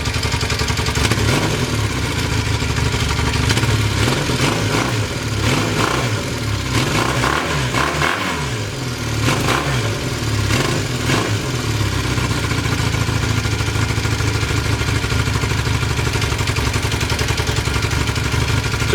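A retro motorcycle engine runs after a quick cold start at about minus five degrees, idling steadily up close with a mechanical clatter and mild fluctuations in revs, no talking.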